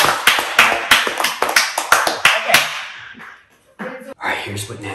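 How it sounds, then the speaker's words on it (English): A small group of people clap in a quick burst of sharp, uneven claps for a contestant during a spooky-season mystery food tasting game at home. The clapping lasts under three seconds, then fades into quiet and brief talk. "Let's give Jenni a round of applause."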